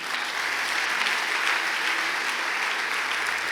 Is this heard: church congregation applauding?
yes